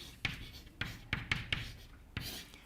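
Chalk or marker writing on a board in a physics lecture hall, with several distinct tapping strokes and short scratches spread irregularly across a few seconds, fairly close and with no talking.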